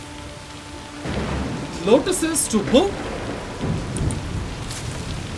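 Steady rain falls across an outdoor garden scene in the video game Assassin's Creed Shadows, a continuous hiss heard at moderate volume, partly under a voice in the middle and alone at the start and end.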